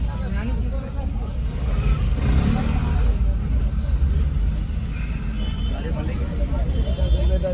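Road traffic idles and creeps near the Sonprayag parking area on the Kedarnath route, with car and bike engines rumbling at a moderate distance in a steady wash while a person talks throughout.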